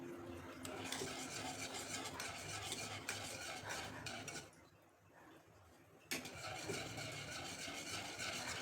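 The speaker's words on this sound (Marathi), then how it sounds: "आणि सारखं हलवत राहायचं असं." A utensil scrapes and stirs semolina batter around a pan over a gas flame in steady, repeated strokes, close and fairly faint, with a short pause midway before the stirring resumes.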